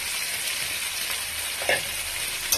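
Potato and cauliflower pieces fry in hot spiced oil, giving a steady bright sizzle with a faint stir or scrape partway through and no voices.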